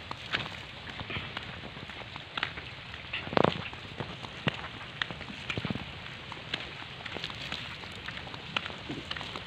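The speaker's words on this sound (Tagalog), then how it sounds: "Maulan ngayon, may bagyo ba ngayon?" Soft, steady rain pattering on a surface, with scattered louder drips and taps throughout, fairly quiet and with no talking.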